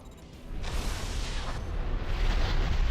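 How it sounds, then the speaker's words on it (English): Continuous rumbling explosions and blasts roll through a mech battle in the video game Armored Core 4: Answer, dense and loud, building slightly toward the end, with no voices. "So many freaking explosions going on here."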